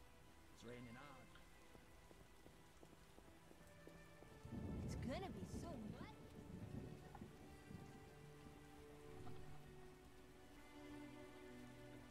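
Heavy rain pours steadily in The Witcher video game while a loud crack of thunder rumbles up midway, with game character voices speaking over the storm.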